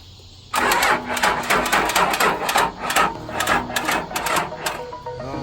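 A booster box cranking a Dodge Ram 2500 5.9 Cummins diesel, a close, rhythmic, labored starter churn pulsing steadily for several seconds without the engine catching.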